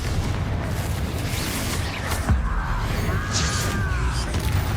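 Bombarda and Confringo spell explosions in Hogwarts Legacy, booming blasts over a rumbling low background, with a few bright whooshing bursts, moderately loud.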